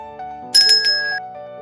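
A bright, chiming bell tone rings out over soft sustained musical notes, a brief metallic ding that lingers and fades.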